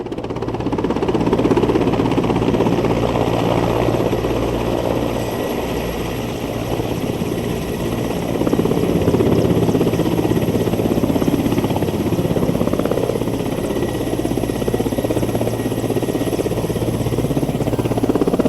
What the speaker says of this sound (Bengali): তো এই যে আমাদের হেলিকপ্টার চলে এসছে, এক পাক ঘুরে নামবেন উনি।